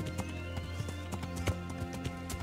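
Hooves of a ridden horse in the medieval game Kingdom Come: Deliverance clop in a quick, regular beat over a low ambient hum, each strike sharp and close.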